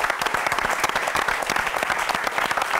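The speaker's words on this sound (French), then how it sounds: "On l'applaudit" An audience at a gospel event breaks into dense, continuous applause, many hands clapping close and loud throughout.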